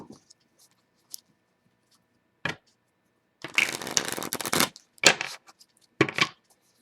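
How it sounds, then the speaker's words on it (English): Bursts of tarot card shuffling: a brief riffle, then a longer crisp flurry and two quick follow-up shuffles, close and clear with no talking. "I'm going to shuffle the cards a few times before we pick."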